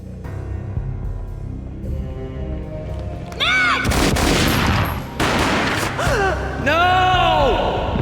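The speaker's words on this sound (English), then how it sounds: "A gunshot boomed and she fell down in slow motion" Gunfire in the Max Payne video game, in the Aesir Corp tower finale: loud booming shots burst in after a quiet stretch, followed by slowed, echoing resonant tails and a gasp-like sound.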